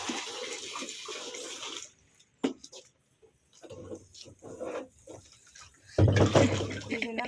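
Water poured onto potting soil in a plant pot in a terrace garden in Mysuru: one splashing pour at the start and another at the end, with a quieter gap and faint voices in between.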